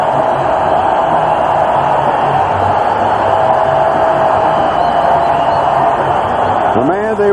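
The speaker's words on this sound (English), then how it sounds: "Cedric Jones is leading the cheers" Stadium crowd roars and cheers at a 1985 NFL game between Indianapolis and New England after a point after touchdown, a loud, steady wall of cheering filling the whole span with no break.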